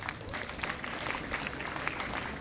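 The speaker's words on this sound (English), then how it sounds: "Another round of applause." Applause from the audience at Uzima University's 2023 graduation ceremony in Kisumu, a soft, distant patter of many hands clapping, steady and faint throughout.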